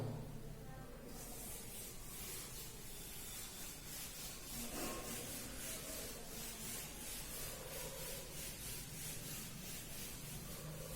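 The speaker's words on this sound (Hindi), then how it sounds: "चलो मैं रब कर देता हूं इसको, नोट हो गए होंगे तो रब कर देता हूं।" Writing is rubbed off a board during a maths lesson on integration: a steady run of rhythmic, scratchy back-and-forth strokes, fairly quiet and close, continuing for several seconds without pause.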